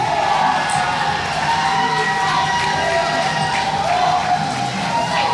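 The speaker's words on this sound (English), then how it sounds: "Crowd favorite Johnny Faith coming to the ring." Crowd at a wrestling match cheering and shouting as a wrestler comes to the ring, a dense, steady roar of voices with whoops throughout.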